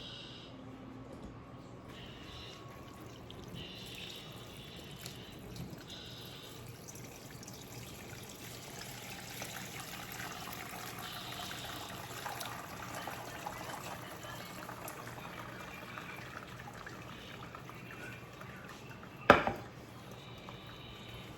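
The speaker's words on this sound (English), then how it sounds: "I'm gonna let that drip for a little bit." Homemade beef broth draining through a strainer during canning prep gives a faint, steady trickle and drip with a small clatter near the end, no voices.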